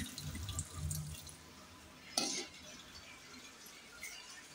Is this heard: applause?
no